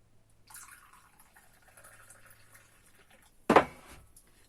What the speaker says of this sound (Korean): 여기다가 이제 뜨거운 물을 넣어주세요